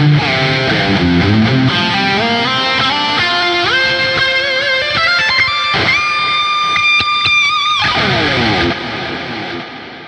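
A loud, heavily distorted BC Rich electric guitar plays a smooth, sustained liquid lead, notes gliding and ringing into one another, heard on its own.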